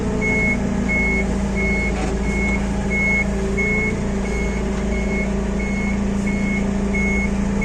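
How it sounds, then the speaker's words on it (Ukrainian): Toyota 02-8FGF25 forklift with factory cab reversing in a warehouse yard, its reversing alarm beeping steadily and evenly over a loud, constant engine drone with no talking. "автоматична коробка передач, рух назад, вмикаємо, він починає їхати"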